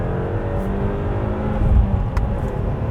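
A 2020 Subaru WRX with a manual gearbox drives and accelerates, its engine a steady, close low drone with a slight swell in the middle, heard alone with no talking.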